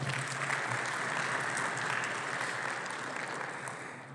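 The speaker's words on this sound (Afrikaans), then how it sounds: "kom julle nog 'n laaste hande klap" Members of a church congregation at Sunday service give a final round of applause, a full, steady wash of many hands clapping that gradually thins toward the end.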